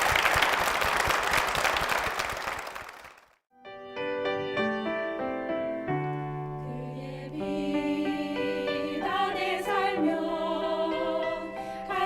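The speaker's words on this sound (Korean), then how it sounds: "여러분 힘찬 박수 부탁드리겠습니다" A church congregation bursts into hearty applause for a couple, a dense loud clapping that fades out after about three seconds, followed by music with sustained instrumental tones.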